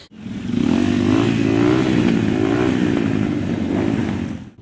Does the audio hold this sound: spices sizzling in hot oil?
no